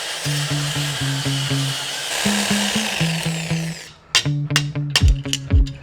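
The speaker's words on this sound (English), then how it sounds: "then with a reciprocating saw, I cut out the bush outer skin" A reciprocating saw cuts through the outer skin of a Land Rover suspension bush, a loud, close, buzzing motor whine in stuttering bursts, followed by a few sharp metallic knocks near the end.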